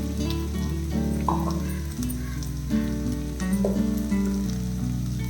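Sliced okra sautéing in a pan, a steady close sizzle and crackle of frying that continues throughout, with a low hum underneath.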